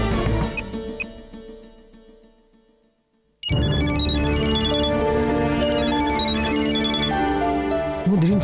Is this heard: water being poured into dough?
no